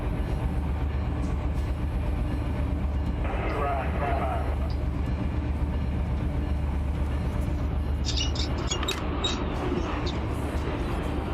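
An intermodal freight train rumbles steadily in the RUN8 train simulator, a long unit train with five locomotives leading and two DPUs at the rear, its low drone constant while someone talks over it.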